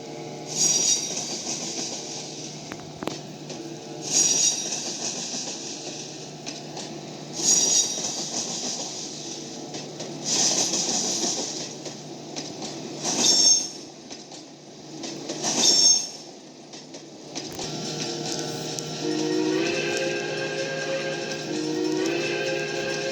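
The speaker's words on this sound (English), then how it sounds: "Taylor and the 3 diesels set out from Roseville and were out on the open mainland again." Three diesel locomotives roll along the open mainline out of Roseville in a snowstorm, with a continuous rumble of wheels on rails broken by several loud, recurring metallic wheel squeals.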